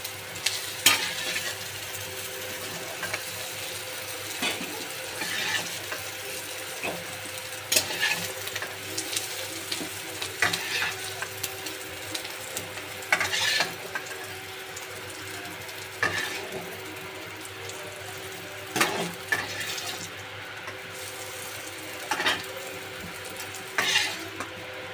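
Cauliflower florets frying in oil in a pan, a continuous sizzle broken by repeated scraping and clacking strokes of a spatula stirring them at an irregular pace, close and fairly loud.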